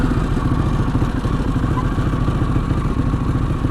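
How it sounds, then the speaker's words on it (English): A 2021 Harley-Davidson Pan America Special motorcycle starts and runs close by, a steady loud mid-pitched engine churn with fine rapid pulsing throughout, no voices over it. "this is my 2021 Harley-Davidson Pan America Special, affectionately known as Wichita, and we're going to do a startup right now."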